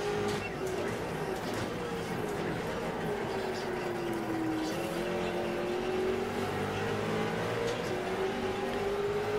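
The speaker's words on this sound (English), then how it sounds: "Plenty of good close racing here as I hound Chuck's tail" Race cars lapping the technical Barber circuit in the iRacing sim, a steady, continuous engine drone that rises and falls slightly in pitch as the cars run close together, with no speech over it.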